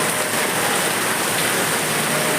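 Heavy rain falls in a dense, unbroken hiss, loud and close, drumming steadily on surfaces with no gaps.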